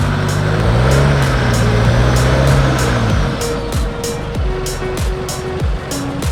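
A solid-axle Toyota Prado crawls off-road in two-wheel drive with front hubs unlocked, its engine droning loudly and rising and falling through revs, with rapid ticking and scrabbling from the tyres over rough ground.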